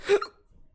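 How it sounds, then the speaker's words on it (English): A single short hiccup, close and sharp, followed by faint breathing. "I got the hiccups."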